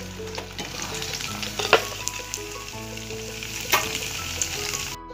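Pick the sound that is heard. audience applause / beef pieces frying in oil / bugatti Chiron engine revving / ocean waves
beef pieces frying in oil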